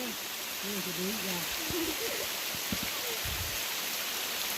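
Dense, steady hiss of heavy rain pouring down continuously, with a voice talking over it.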